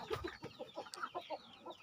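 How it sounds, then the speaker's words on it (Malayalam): Native roosters clucking close by, a quick run of short soft clucks in an irregular rhythm. "ഇന്ന് എൻ്റെ കയ്യിൽ കിടക്കുന്ന പൂവൻ കോഴികളെ ഒന്ന് പരിചയപ്പെടുത്തുകയാണ്"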